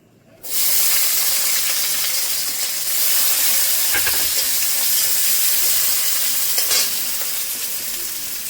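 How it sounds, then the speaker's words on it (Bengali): Onions drop into hot oil and burst into a loud, continuous sizzle that rises suddenly and then stays strong and hissy, with a few soft stirring clinks and no speech. "একটু তেল দিয়ে দিচ্ছি। পেঁয়াজগুলো দিয়ে দেবো।"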